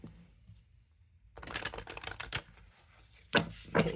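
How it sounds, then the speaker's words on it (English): A small oracle card deck shuffled by hand, a silent pause followed by bursts of crisp clattering card riffles and two sharp snapping flurries near the end, close and fairly quiet. "Okay, it's not too hard to shuffle."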